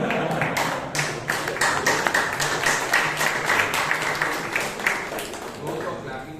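Audience applause at a Toastmasters club meeting in Bangalore, a steady wash of many hands clapping throughout, fairly loud, with a faint voice underneath.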